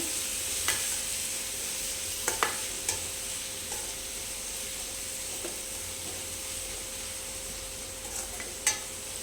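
Onions and tomato fry in a pan for a spring onion and egg dish, giving a steady soft sizzle while a spoon scrapes and taps now and then, close and without voices.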